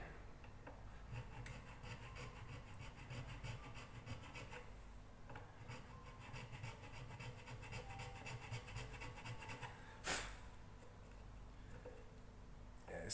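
A soft ukulele nut is filed by hand, producing a quiet, continuous rasping rub with steady back-and-forth strokes, close up, with a brief sharp knock near the end.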